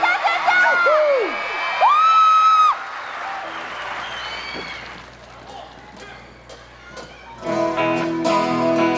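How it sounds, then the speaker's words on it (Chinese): A crowd at an outdoor concert during the 2010 Hualien Pacific international tourism festival, cheering and applauding loudly with shrill screams and whoops. The noise fades midway, then music swells back in. "掌声加尖叫！"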